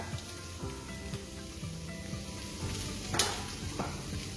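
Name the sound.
onion cooking in a pan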